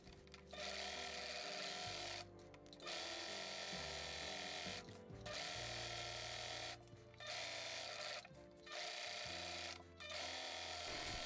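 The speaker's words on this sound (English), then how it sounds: "I'm going to pin it and then sew all around it, leaving a little bit open so I can turn it right sides out." Domestic sewing machine stitching around a pinned fabric Halloween placemat, running in several steady bursts of a few seconds each with brief pauses between, close and alone.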